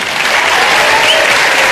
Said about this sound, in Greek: ένα χειροκρότημα για τον Άλεξ τον Παναγή